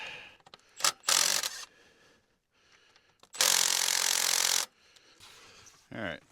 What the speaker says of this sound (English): I like these mid-torque impacts.